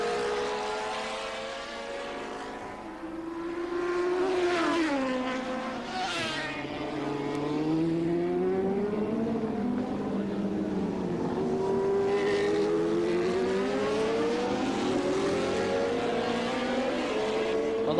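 Racing motorcycles at the Gracefield street race scream past one after another, their engine whine climbing and falling in pitch as each bike passes, loud and alone with no talk.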